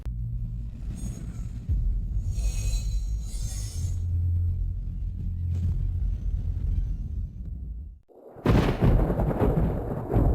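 Thunder rolls outside during a sudden lightning storm, a low, heavy rumble that swells and fades before a sharp, loud crack bursts in near the end.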